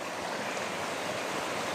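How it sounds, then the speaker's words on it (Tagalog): Flood water surges steadily from a swollen, overflowing waterway after a week of rain near a flooded house, a continuous broadband rushing wash with no pauses, moderately loud and close, with no voices. "So maglikas na, umapaw na yung tubig."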